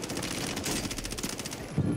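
Rapid bursts of gunfire in the video game Warzone, dense and continuous across the moment with a sharper crack near the end, loud and up close with no talking over it.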